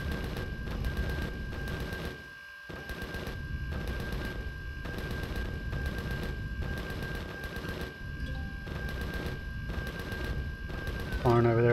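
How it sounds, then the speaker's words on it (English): Rapid gunfire rattles in steady automatic bursts across a ground assault in the video game Empyrion, a loud, rhythmic stream with a brief lull early on and a steady mechanical tone running beneath. "So it's shooting at something."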